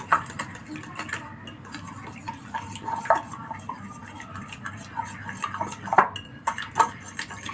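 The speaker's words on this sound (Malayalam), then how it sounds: "ഇങ്ങനെ മിക്സ് ചെയ്ത് കൊടുക്കാം" A spoon works egg and ground black pepper together in a bowl for a snack, giving repeated light clinks and scrapes against the dish over a low steady background hum.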